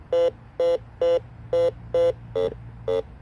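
A metal detector gives seven evenly spaced, loud electronic beeps over a nickel and a ring, a steady pulsing tone about twice per second, the sixth beep slightly warbled, with no talk.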